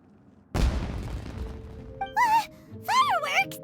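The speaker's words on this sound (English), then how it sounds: "Was that an explosion? It sounded like fireworks." A single heavy firework explosion booms in Genshin Impact and rolls off into a decaying rumble, then game characters speak over the fading sound.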